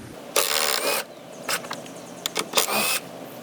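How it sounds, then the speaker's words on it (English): A ratchet loosens the mirror mounting nuts on a 2015-or-later Ford F150, with bursts of rapid close clicking separated by short pauses and no talk. "Now you want to go ahead and remove the two mounting nuts there."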